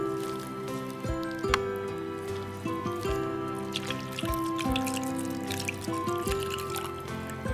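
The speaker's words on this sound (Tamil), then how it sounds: "இப்போ தண்ணி ஊற்றி" Water pours and trickles into a pot of lentil water for citron fruit rasam, a quiet, uneven run of splashing and dripping with bright ringing tones, and no talk.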